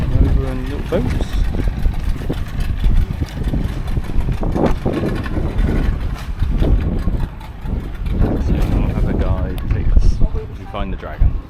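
A small boat motors toward Komodo Island, its engine a loud, close, continuous drone mixed with wind buffeting the microphone throughout.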